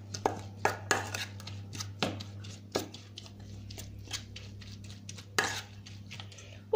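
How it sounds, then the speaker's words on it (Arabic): Sardine stuffing mixture with lemon juice being mixed in a bowl, a series of sharp spoon taps and clinks against the bowl with quieter scraping between them, over a low steady hum. "غادي نخلط الخليط ديالي"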